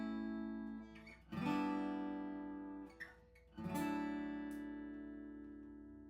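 A guitar plays a progression of three strummed chords, A then G then D, each chord struck and left to ring before the next one, quiet and close, with no talk.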